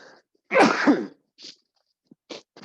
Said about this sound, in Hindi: छींक आ गई थी।